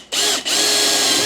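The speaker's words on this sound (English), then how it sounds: "I'm just going to drill a little pilot hole down here" A power drill bores a small pilot hole in a 1980s house, running as one loud, steady whine with a brief dip near the start, close up and with no talking.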